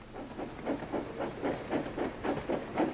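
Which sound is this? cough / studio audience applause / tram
tram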